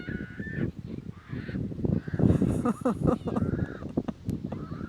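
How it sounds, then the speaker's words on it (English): Gulls screaming close by, a raucous chorus of repeated harsh honking calls overlapping one another through the whole stretch, with a little background noise. "These gulls are having a scream fest right next to me."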